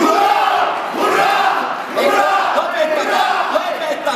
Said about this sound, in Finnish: Ja nyt nelinkertainen hurraa-huuto kunkkelille, elikkä minulle.